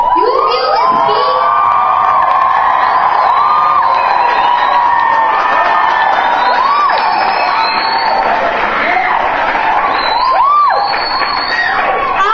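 A large crowd of youths at a church youth event screams and cheers continuously at full volume, a dense roar of shrill voices and whoops with no pause throughout.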